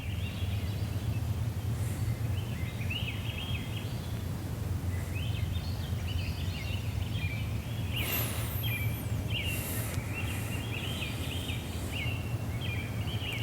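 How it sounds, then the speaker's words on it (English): Many birds calling and chirping in a forest, repeated short warbling phrases over a steady low rumble, with no talking. "There's so many birds in the forest."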